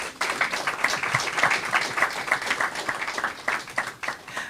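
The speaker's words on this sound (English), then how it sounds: "Please stand. Give them a round of applause." An audience claps for visual artists and a fashion design team at a press conference, a lively, uneven run of hand claps that holds steady throughout, with no talking.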